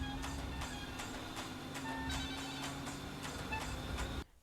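An old landline telephone ringing indoors in a Tamil film scene, a steady repeating electronic trill in regular bursts that sounds close and fairly loud over a low hum, then cutting off abruptly near the end.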